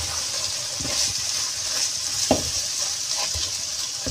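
Mixed vegetables, including carrots, are stirred with chicken powder in a hot pan, giving a constant close sizzling hiss with occasional soft scraping strokes from the spoon.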